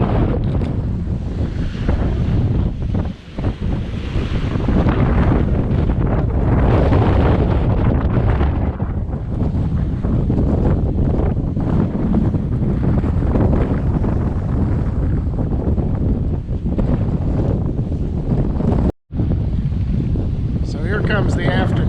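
Wind gusts buffet a sailboat out on open water, roaring steadily against the microphone with waves and surf washing underneath for the whole stretch, broken only by a brief dropout near the end.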